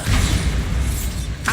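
A Bombarda blast spell bursts in Hogwarts Legacy: a loud, dense explosive boom with rumbling low end that fills the moment, then a brief rising whoosh at the tail.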